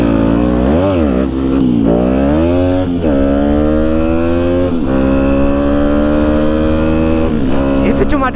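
A 150cc motorcycle accelerates hard on a night ride, pulling a wheelie. The engine revs in loud, close rising sweeps, easing off and then climbing again several times.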